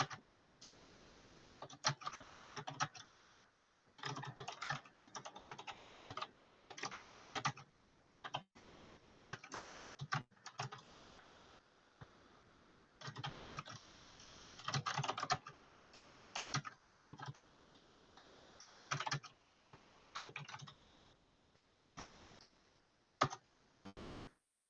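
Someone types a prompt on a computer keyboard, producing steady bursts of quick, close key clicks with brief pauses between runs and no voices.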